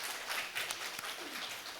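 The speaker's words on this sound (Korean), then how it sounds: "우리 하나님 앞에 영광의 박수 올려요." A church congregation claps together during a Korean Sunday worship service, a dense, fairly faint burst of applause lasting under two seconds with no voices.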